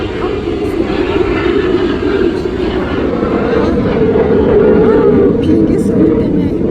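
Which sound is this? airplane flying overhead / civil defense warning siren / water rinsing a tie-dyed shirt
airplane flying overhead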